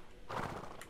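A horse in the video game Star Equestrian whinnies once, a short bright neigh rising over a shuffle of hooves and game background noise, close and fairly loud.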